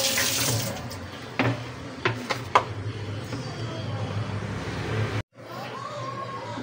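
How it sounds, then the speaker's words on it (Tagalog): Tap water runs steadily into a sink while a chopping board is washed, with a few knocks and clatters along the way before the flow stops abruptly near the end. "At syempre, huhugasan uli natin pati yung ating sangkalan."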